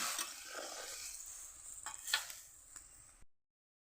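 Olive and small fish pickle with salt and turmeric being stirred in a pan, soft scraping and a low sizzle with a few sharper clicks of the spoon, ending abruptly in silence.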